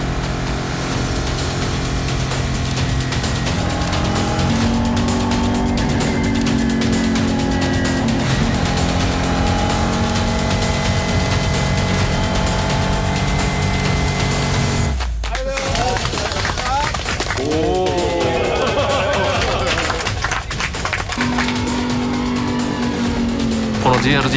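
Two JRGT race cars accelerate together, a loud continuous engine roar with shifting pitch, sharp tire squeal and whooshing passes toward the end, with speech running under the engine noise throughout.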